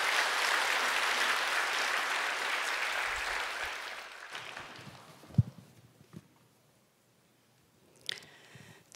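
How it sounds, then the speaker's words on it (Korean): Church congregation applause greeting a deaconess coming up to share a testimony at a Sunday service, broad and even for about four seconds before cutting off, followed by quiet room noise, a few bumps and brief rustles. "우리 김복실 권사님 박수로 맞아주시기 바랍니다"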